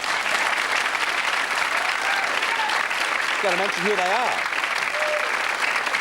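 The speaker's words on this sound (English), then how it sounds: "Clap yourselves, because you look wonderful there." A television studio audience applauds steadily and loudly, with a voice talking briefly over the clapping.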